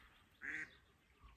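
A single short quack from a live decoy duck during a spring duck hunt, faint and distant over quiet outdoor background.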